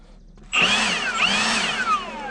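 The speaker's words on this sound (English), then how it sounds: "Milwaukee blower just blowing out" A Milwaukee cordless blower clears the air filter of a Komatsu D51 dozer, starting abruptly with a loud, close, high whining rush of air that holds steady for about two seconds while its pitch sweeps up and down.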